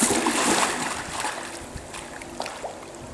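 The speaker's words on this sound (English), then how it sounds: "Candidate number 2 will now demonstrate the slide entry into the water." A swimmer slides into a swimming pool during a lifesaving assessment, with a soft splash at first that fades into gentle lapping and small water sloshes.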